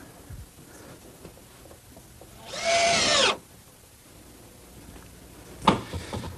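A power drill drives a single screw into wooden dove cote boards, one steady whirring burst of just under a second in otherwise quiet surroundings, followed later by a brief sharp knock.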